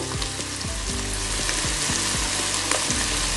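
Turmeric powder fries in a pan of hot oil, a loud steady sizzle under a repeating mechanical hum pattern throughout, with no talking.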